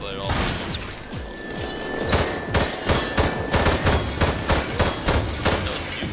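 Rifle fire from Killzone Source, a slower-firing AR-style gun with recoil and a grenade-launcher scope, crackles in a string of sharp, loud shots, spaced at first and then in quicker bursts, over game background noise.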